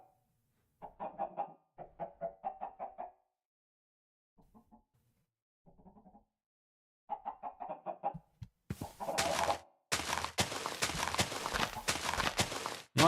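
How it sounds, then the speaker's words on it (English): Chickens clucking in the Minecraft video game, several short bursts of clucks separated by pauses, then a louder, noisier stretch of game sound toward the end. "I put a bunch of chickens underneath his base."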